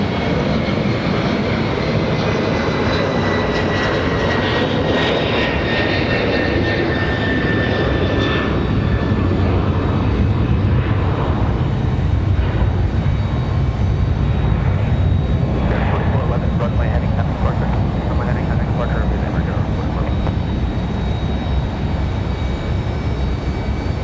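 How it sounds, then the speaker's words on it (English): A Southwest jet roars on takeoff from runway 23 left at Raleigh-Durham International on a windy day, a loud continuous engine rumble and whine held steady throughout, with radio chatter and voices faintly underneath. "runway 23, left clear for takeoff"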